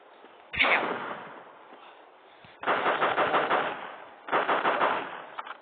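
Rapid gunfire from the video game Flat Zombie: Defense&Cleanup comes in three bursts of fast repeating shots, with the second and third bursts the densest.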